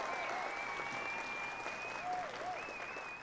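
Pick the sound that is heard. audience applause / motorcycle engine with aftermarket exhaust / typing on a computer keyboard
audience applause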